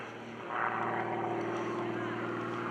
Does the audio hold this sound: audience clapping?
no